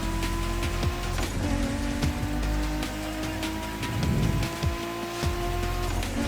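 Race car engine in a racing video game, a steady loud drone with harmonic tones that rise and shift under gear changes, with rough tire and road noise throughout and no talking.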